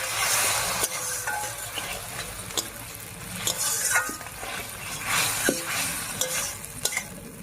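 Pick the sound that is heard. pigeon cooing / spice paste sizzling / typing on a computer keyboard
spice paste sizzling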